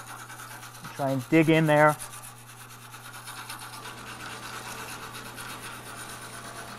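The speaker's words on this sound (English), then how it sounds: "I'm going to hit the area with a fresh stainless brush that I use only on aluminum" A stainless steel wire brush scrubbing an aluminum surface before TIG welding, producing a steady close rasping rub that follows a brief spoken remark.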